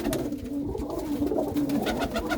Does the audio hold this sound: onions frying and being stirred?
no